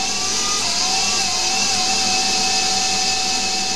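A CNC lathe threads a vintage BSA Empire Star motorcycle part with an 80-degree insert, giving a steady, loud machining whine with sustained tonal lines over a dense broadband hiss, continuous and without speech.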